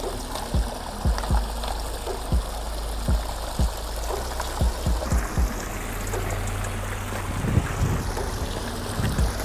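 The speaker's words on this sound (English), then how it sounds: "I'll end up like messing with little pebbles and stuff just to get the water to flow over the rocks differently" Water trickling and splashing over rocks and pebbles in a renovated outdoor koi pond on Amelia Island, a continuous close babble with scattered sharp clicks and knocks from handling stones.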